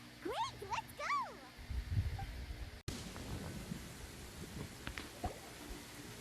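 Rain in the video game Genshin Impact comes in as a steady, soft hiss after a few brief voiced sounds at the start, continuing evenly to the end.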